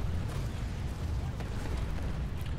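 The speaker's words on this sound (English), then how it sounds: "So they're shelling us now" Artillery shelling in the video game Planetside 2 rumbles as a low, continuous roll of distant explosions, with faint bursts popping through a steady booming wash.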